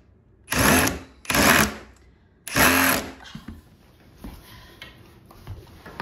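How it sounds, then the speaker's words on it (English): A power drill boring pilot holes in wooden ledger boards for a daybed, three loud whirring bursts of about half a second each, close by, followed by quieter handling noise. "what I suggest is that we make some pilot holes already here, so when we go in, it will be easier to put it on."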